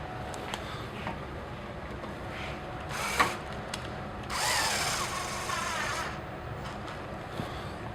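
A power drill driving screws while reassembling the back part of a FlexKraft unit, giving two short whirring bursts with a quiet pause between them, close and fairly faint against a still room.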